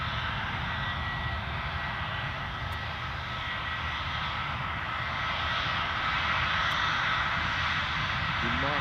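A Eurowings airliner's engines roar steadily at Edinburgh Airport, a broad, continuous drone that swells slightly toward the end, with voices talking over it.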